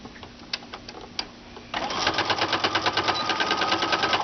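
A sewing machine starts up after a few light clicks and runs a steady, fast rhythmic stitching through a fabric key ring loop, close and loud with no talk.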